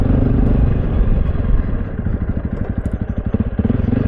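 A motorbike rides along a boggy, muddy trail, its engine chugging steadily with a pulsing mid-range throb and some clatter, loud and close, with no talking.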